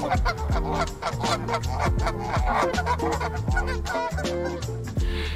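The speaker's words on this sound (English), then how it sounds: "These are the Canada geese." Repeated loud honking calls from several Canada geese, overlapping in a busy, continuous chorus close by.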